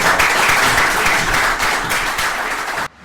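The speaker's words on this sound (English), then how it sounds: "the one and only Chris Webber, please give him a round of applause." Audience applauds a speaker at a book launch event, with a dense, steady wash of many hands clapping at a fairly loud level that cuts off abruptly near the end.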